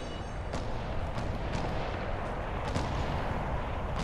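Sniper rifle shots crack in a video game, several sharp reports at irregular intervals over a dense, rumbling background of continuous gunfire.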